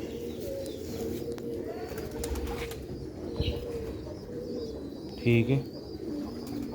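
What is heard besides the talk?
pigeons cooing and flapping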